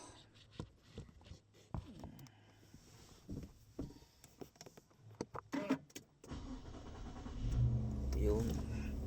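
A Nissan Z sports car is handled up close, with scattered clicks and thumps, then its engine starts and rumbles low and steady over the last few seconds, with some brief talk.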